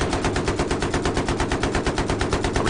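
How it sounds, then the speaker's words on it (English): Rapid automatic gunfire from the video game Battlefield 3 plays as one loud, continuous burst of evenly spaced shots, close and dense throughout, with no talking. "I'm shooting everywhere."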